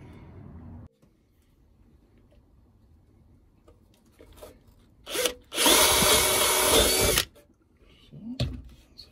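A Parkside power drill bores through plywood, starting with faint low whirring and brief revs, then a loud steady high-pitched drilling burst lasting about two seconds as the bit cuts through, followed by quieter rustling.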